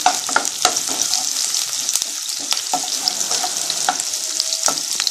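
Onions roasting in hot oil for egg sambar sizzle and crackle steadily up close, with scattered stirring scrapes and clicks of a spoon against the pan, no voices.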